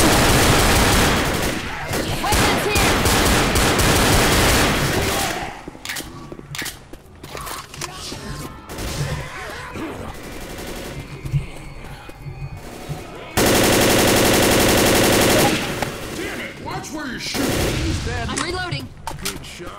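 Gunfire blasting at a boomer in Left 4 Dead: loud rapid bursts opening the stretch, then scattered single shots, and a second heavy run of shooting later on, with some talk mixed in.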